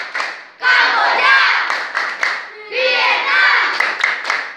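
Children perform a rhythmic clapping chant in a classroom, sharp hand claps punctuating loud group singing in two bursts, with voices dominating over the claps.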